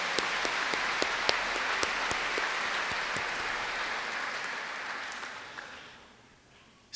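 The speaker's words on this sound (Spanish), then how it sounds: "Dale un fuerte aplauso al Señor." Congregation at a church service claps in sustained applause, a dense wash of hands with a few sharp louder claps, holding steady for several seconds before fading out near the end.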